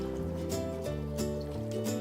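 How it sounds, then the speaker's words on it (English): Water pours into a recycled peroxide bottle with a steady, continuous trickle whose tone rises gradually as the bottle fills, close and moderately quiet, with no talking. "To that, I'm going to simply add 2 cups of water"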